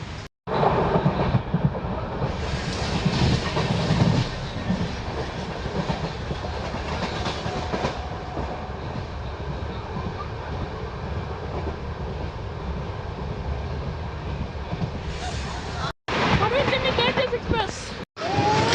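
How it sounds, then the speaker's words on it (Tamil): A WAG9 electric locomotive hauls a goods train of BCNA wagons past, a loud rumbling roar with rattling wagons that holds steady for a long stretch before cutting off abruptly. "WAG9 goods train, WAG9 BCNA goods train"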